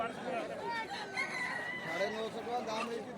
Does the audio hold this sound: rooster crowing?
yes